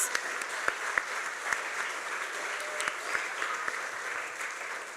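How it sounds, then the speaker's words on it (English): An audience at a STEM camp graduation applauds the camp curators, steady clapping heard from a moderate distance and fairly quiet, with a few sharper claps popping out of the even patter throughout. "I want us to give a round of applause to the curators of the camp."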